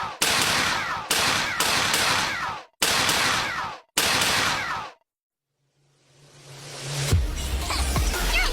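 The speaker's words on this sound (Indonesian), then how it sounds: "Kami dikejar prajurit Private Jigger. Mereka terus menembaki kita." Animated soldiers firing in bursts: several loud, close rapid-fire volleys separated by short gaps, then a pause before a rising whoosh and rumble take over.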